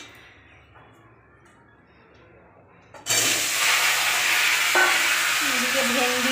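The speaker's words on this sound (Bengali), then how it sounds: "এই যে কড়াই দিয়েছি, কড়াইতে তেল ফেল দিয়েছি।" Oil heating in a kadai on a home stove: after a quiet stretch of room hum, a loud, steady sizzling hiss bursts in and continues without letup.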